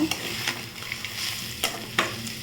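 Drumstick leaves sautéing with salt in a hot pan, a soft sizzle broken by a few sharp spatula scrapes, close by and without voices.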